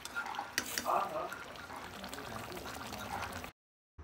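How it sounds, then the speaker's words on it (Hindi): Chicken gravy bubbles down over a full flame, a close, soft steady bubbling with occasional stirring scrapes and clinks, then a brief silent break before the bubbling resumes. "अभी इनको अच्छे से फुल फ्लेम पे ही हमें ऐसे इनका जो ग्रेवी है वो कम करना है"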